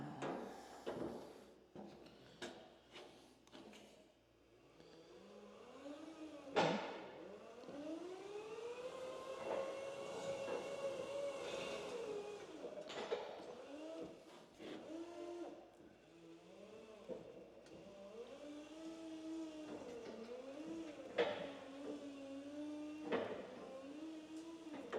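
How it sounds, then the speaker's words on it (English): A small lift rises inside a shop, its motor whining in repeated climbing and falling tones over a low hum, punctuated by sharp clanks and clicks, fairly close, with no talking. "Let's take a ride up here in the lift"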